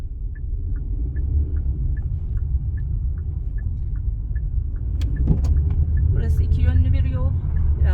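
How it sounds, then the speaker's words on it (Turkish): A car's engine idles and then pulls away on a driving-test route in Yaşamkent, Çankaya, a steady low rumble close by with a turn signal ticking evenly, and a voice speaking briefly toward the end. "Aracımız çalışır konumda ve ilerliyoruz"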